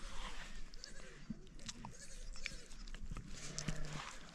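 A goat bleats faintly while being fed outdoors among Tibetan nomads, a few short wavering calls set against a low, busy background of stirring animals and quiet rustling.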